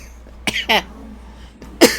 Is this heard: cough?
yes